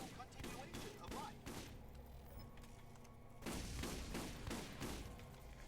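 Shock shotgun blasts from the Borderlands video game, a quick series of punchy shots at low level, pausing midway before a denser burst of fire resumes.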